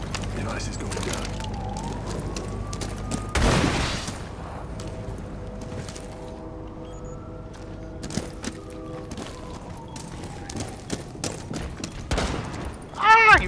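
Rainbow Six Siege on the Kafe Dostoyevsky map, a loud shotgun blast ringing out midway through, with a second sharp shot later, over synthetic game tones, gadget chirps and clicks.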